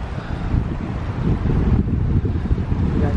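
Strong mountain wind gusts sweep down past a Colorado archery hunting camp. The wind makes a steady, loud, broadband roar with buffeting on the microphone throughout, and no one speaks.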